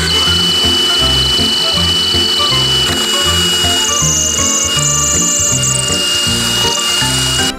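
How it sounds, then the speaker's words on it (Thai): A loud, steady electric drill whines continuously while cutting a hole in ceramic tile, with rhythmic pulsing and no speech. "หัวขัดนะใส่กับสว่านนะครับแล้วก็มาทำการเปิดรูก่อนครับ"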